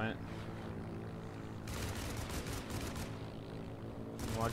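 A propeller warplane in a World War II air combat game drones past with a steady buzzing engine note, accompanied by bursts of rapid machine-gun fire and a faint voice speaking over it.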